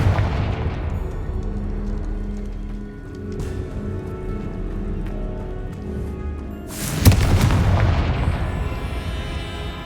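Confringo explosive spells blast in Hogwarts Legacy. A low rumbling bed carries a few soft booms and ends in one sharp, loud blast whose crackling fades away over the last seconds.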